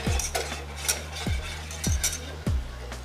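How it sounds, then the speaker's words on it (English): Brown sugar is mixed into a sauce for Thai sticky wings in a bowl, with a utensil scraping and clinking against the bowl in uneven strokes and four sharp knocks spaced about half a second apart. "I'm gonna add 2 tablespoons of brown sugar in there. I'm gonna mix that up."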